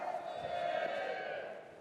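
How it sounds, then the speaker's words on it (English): An audience at a business showcase cheering loudly, a dense wash of voices and shouts that holds steady and then fades slightly. "Raise your arms and give me a loud cheer"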